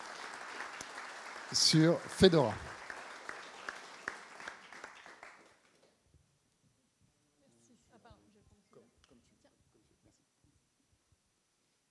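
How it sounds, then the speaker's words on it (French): An audience at an evening talk on AI and music bursts into applause for a speaker, a dense clapping roar for about five seconds that fades to silence, with a few faint knocks and murmurs afterwards. "Mesdames et messieurs, je vous propose d'applaudir Edilia et de l'accueillir"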